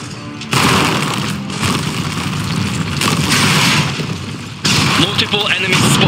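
Dense gunfire and booming explosions from the mech-combat video game Iron Harvest, loud and continuous with heavy bursts and a sharp new blast near the end.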